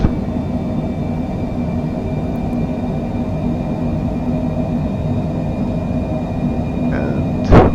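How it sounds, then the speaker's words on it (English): Cockpit of a Cessna Citation Longitude in Microsoft Flight Simulator 2024 at takeoff thrust, a steady loud broadband jet roar with a faint whine, a brief chime near the end. "60 knots. And takeoff thrust set."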